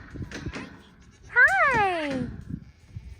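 A single loud, wavering bleat from a goat on a farm with pigs and dogs nearby, rising and falling over about a second, with scattered voices and background farmyard noise around it.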